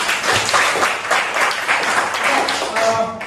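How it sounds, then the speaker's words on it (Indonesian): A classroom audience applauds a group that has just presented, with steady dense clapping from many hands that stays loud throughout. "Sekali lagi berikan aplaus bagi kelompok."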